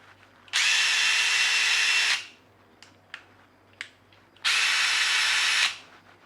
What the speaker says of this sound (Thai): ตัวนี้ก็จะเป็นไขควงกระแทกไร้สายไร้แปลงฐานนะครับ DCF 840